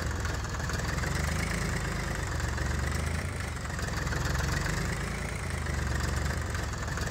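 A tractor idles in Farming Simulator 19, a steady, close, droning engine hum with a faint knock and gentle rises and falls in pitch, with no talking over it.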